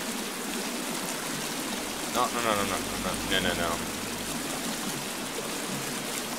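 Steady rushing of flowing water fills the scene in the survival game The Forest, a constant broadband wash with a brief voice speaking over it in the middle.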